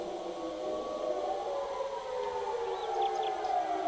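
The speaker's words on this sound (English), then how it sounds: "Listen to those sirens going off." Sirens wail during a nuclear power plant meltdown in the game Stormworks, a steady rising and falling tone heard alone at moderate volume.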